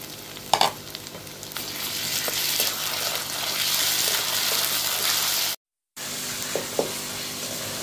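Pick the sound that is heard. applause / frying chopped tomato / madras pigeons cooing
frying chopped tomato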